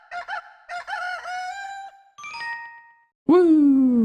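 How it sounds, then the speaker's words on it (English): Chickens cluck in short bursts in the Breath of Fire IV video game, followed by chiming jingle tones and then a loud rooster crow, all crisp and close. "I got all these other chickens in here"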